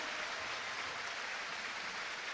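A basketball crowd at the Taliercio arena, at the Reyer Venezia versus Armani Milano game, gives a deliberately fake round of applause, heard as a faint, distant, even patter of many hands with no breaks.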